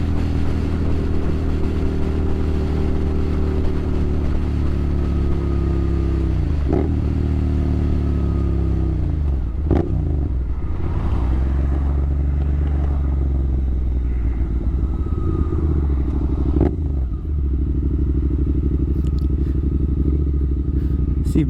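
A Honda CBR motorcycle is ridden, its engine holding a loud steady drone close by, with several gear shifts marked by brief dips and re-rises in pitch and wind noise underneath.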